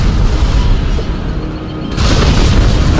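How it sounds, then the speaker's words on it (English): Bombing run explosions from the real-time strategy game Command & Conquer: Red Alert 3 Uprising form a loud, continuous rumbling barrage of booms that swells again after a brief dip. "Bombing run commencing."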